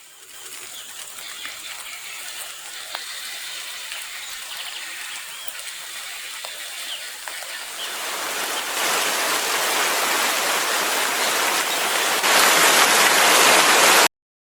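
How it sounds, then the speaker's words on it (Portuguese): Heavy rain storm pouring steadily outdoors, a dense hiss that swells noticeably louder partway through and again near the end, with faint bird calls early on and no talk. "Veio um barulho de chuva muito forte aqui atrás de mim."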